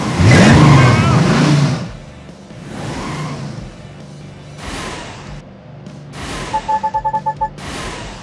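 A cartoon race car in a Blaze and the Monster Machines racing game whooshes and revs as it hits an acceleration boost, with loud bursts, fading engine whirs and chiming game effects.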